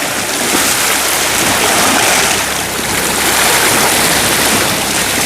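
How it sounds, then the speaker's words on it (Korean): Sea waves crash and wash continuously against a rocky shore at a rockfish fishing spot in rough weather with strong currents, a loud, close, unbroken roar with no voices. "파도 소리. 시원하게 들린다."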